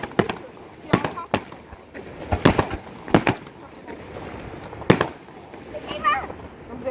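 A fireworks display at Malo-les-Bains, with sharp loud bangs and crackles at uneven intervals, some close and some echoing, while people talk faintly in the background.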